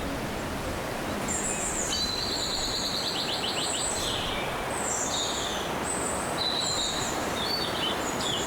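Several birds sing and trill over a constant rushing background, calls overlapping in bright, repeated phrases.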